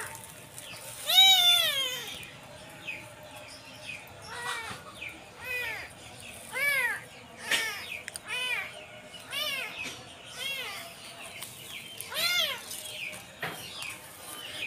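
Three rescued kittens meow repeatedly in thin, rising cries, some loud and close, others fainter, scattered irregularly over a quiet background.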